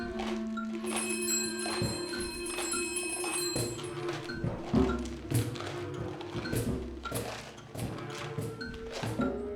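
A doorbell chiming at home, a bright sustained ring at the start followed by scattered taps and thuds, fairly quiet and close.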